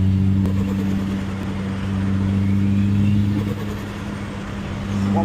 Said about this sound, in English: Now listen to this turbo.